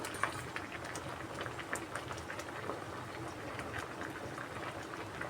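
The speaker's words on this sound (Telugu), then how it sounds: "ఉడకడం స్టార్ట్ అవుతుందండి గోరుచిక్కుడుకాయ బాగా ఉడికే వరకు" Cluster beans boiling in a pot of water, a faint, steady bubbling with small pops and soft liquid gurgles.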